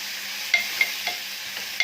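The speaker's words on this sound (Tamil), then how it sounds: "எல்லாம் போட்டு தாளிக்கிறேன்." Soft, steady sizzling of ginger, garlic, cinnamon, cloves and cardamom frying in hot oil with prawns, with a few light stirring taps and crackles.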